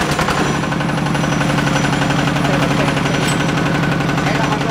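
A Kubota ZT diesel engine starts and runs steadily, giving a loud, continuous rapid chugging knock that persists throughout.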